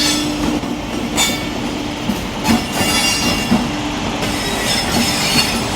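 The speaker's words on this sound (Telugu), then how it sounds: "సో నా వెనకాల ఒక ట్రైన్ వస్తుంది. ఇది ఎలా క్రాస్ అవుతుంది చూడండి" A train rolls through the railway diamond crossing in Nagpur, loud and close, with a steady rumble, periodic rhythmic wheel clacks over the crossing joints and faint squeals throughout, and no voices.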